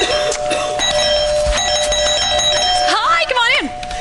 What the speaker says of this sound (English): I'll bring you one at a time with the doorbell.